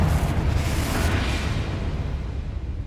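A Confringo blasting spell explodes in Hogwarts Legacy, a loud broad burst that rumbles and slowly fades over a few seconds, with no talk.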